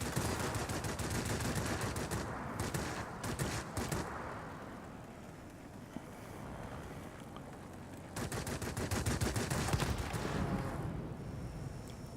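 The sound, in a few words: Yak 19 aircraft guns firing in a video game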